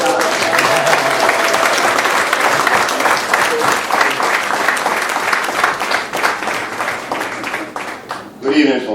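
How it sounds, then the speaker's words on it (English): A crowd at a West Indian Lions awards evening in Greater Hartford applauds the award recipients, dense sustained clapping filling the room for several seconds before tapering off near the end. "can you give everyone that received an award a round of applause?"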